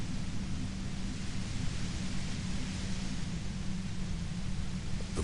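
Violent white noise from the video game Disco Elysium, a dense, steady, loud hiss with a heavy low rumble, unbroken and with no voices.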